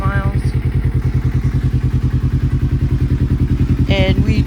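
A 2009 Kawasaki Ninja 250 motorcycle engine runs steadily at idle, with a loud, even low thumping pulse throughout and brief higher mechanical whine near the end.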